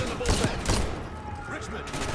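Shotgun blasts in the first-person shooter Call of Duty Black Ops 6, with two loud booming shots early and another burst near the middle over ongoing game noise and a voice talking.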